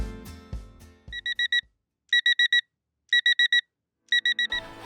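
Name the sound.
alarm clock going off in the morning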